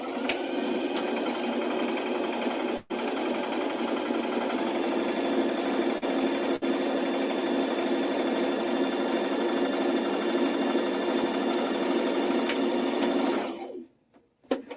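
A sewing machine runs a continuous, steady straight stitch along the drawstring casing of a fabric bunny backpack, with one brief break near the start, then stops abruptly at the end.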